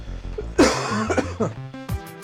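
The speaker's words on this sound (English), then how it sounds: "you hear that deep cough? Makes my whole head rattle." A person with bronchitis gives a deep, chesty cough in a few harsh bursts, close and fairly loud, with throaty rasping between them.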